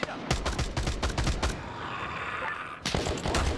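Scattered gunfire in a military video game, a run of sharp shots in quick bursts up front, a quieter stretch with a low rumble, then more close shots at the end; low voices are faintly present.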